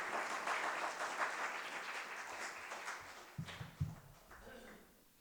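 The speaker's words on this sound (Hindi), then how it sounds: "तालियां कमजोर है आपकी" An audience at a Hindi poetry gathering claps in a faint, thin wash that tapers off, with a few brief voices breaking in near the end.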